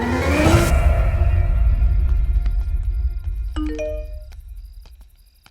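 A two-tone doorbell chime rings out in a scene from a South Indian action film dubbed into Hindi, landing midway through over a low rumbling, whooshing background that fades toward the end.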